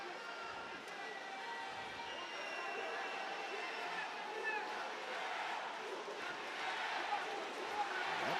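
Crowd noise at an LFA MMA fight night, a broad, steady roar and murmur of spectators swelling slightly toward the end, fairly distant and filling the whole stretch.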